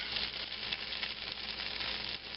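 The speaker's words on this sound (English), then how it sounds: "Throw the ham in the skillet" Ham sizzles in a hot skillet with a steady, dense crackle and hiss that holds close and even throughout, with no talk over it.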